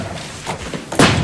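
A door slams shut with a heavy, close thud after a few softer bumps, its impact ringing briefly in the room.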